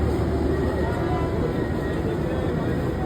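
A train standing at a station, humming and rumbling steadily at a close, even level with a faint high whine, before it shuts down.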